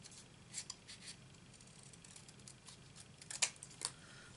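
Scissors cutting cardstock for a handmade card: a handful of quiet, crisp snips scattered irregularly, close to the microphone over a low, hushed room background with no talking.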